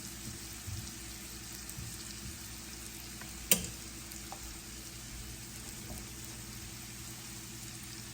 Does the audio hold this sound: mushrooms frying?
yes